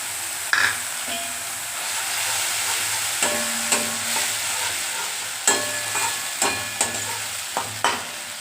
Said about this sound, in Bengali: এখন দিয়ে দেবো বেটে রাখা জিরে ধনে বাটা।